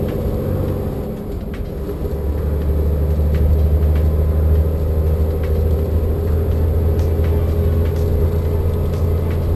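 A Volvo VN780 truck engine drones loud and steady while climbing a hill in high gear, a deep continuous rumble with a low hum that firms up after a couple of seconds, no talk.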